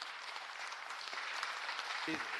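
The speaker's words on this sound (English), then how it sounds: "as much as we want to clap for everybody" Audience applause fills a city council hearing on public works and gang reduction, steady broadband clapping from a crowd in a large room, sustained throughout without a break.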